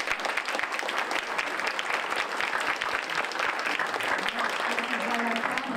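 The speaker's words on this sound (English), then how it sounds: "give them all a round of applause each time they come out" A crowd claps steadily and warmly throughout, a dense, continuous round of applause.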